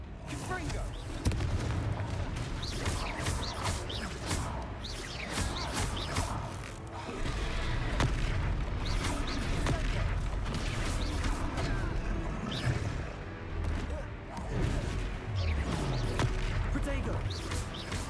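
Spell explosions and impact booms from the Confringo fire spell in the video game Hogwarts Legacy, repeated sharp blasts and crackles amid ongoing combat noise, loud and busy throughout.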